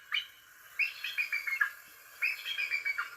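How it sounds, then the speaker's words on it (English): Real bald eagle call: two bursts of high, thin chirping cries, each a rapid descending series of piping notes, heard clearly and alone with a pause between. "Real bald eagles sound like this."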